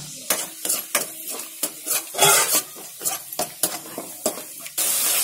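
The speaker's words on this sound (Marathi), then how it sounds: "हे व्यवस्थित भाजून घ्यायचं, एकजीव करून घ्यायचं." Turmeric and curry leaves fry in a pan for Malvani-style vada pav, with a spoon repeatedly scraping and clanking against the pan over a sizzling background, close and fairly loud, ending in a burst of hissing.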